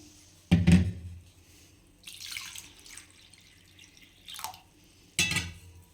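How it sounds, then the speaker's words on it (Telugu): Water is poured into a bowl to rinse soaked green gram in a kitchen, heard as a few short separate splashes and trickles with quiet gaps between them. "ఇప్పుడు కొన్ని వాటర్ పోసుకుందాం"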